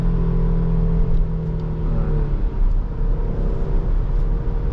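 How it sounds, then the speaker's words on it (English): A car surges at full throttle in third gear, its engine droning loud and near with a rising whine that fades out midway, followed by a rough, rumbling road roar. "Full throttle in third gear."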